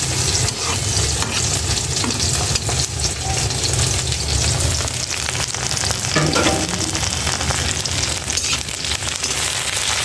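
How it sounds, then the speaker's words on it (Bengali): Bitter gourd slices fry in a hot pan of oil, giving a steady, dense sizzle and crackle that holds at an even loudness from start to finish, with no voices. "করলাগুলি ভেজে নিব"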